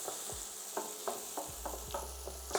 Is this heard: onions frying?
yes